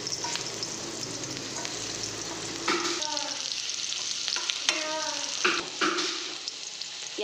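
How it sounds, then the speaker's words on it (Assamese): Onions sizzle in hot oil in a wok, a continuous hiss with spatula scrapes and clinks scattered through, the frying quieting somewhat in the second half as stirring knocks stand out. "এইফালে কেৰাহী গৰম কৰি তেলো গৰম হ'ল। এতিয়া পিঁয়াজ দি দিছোঁ।"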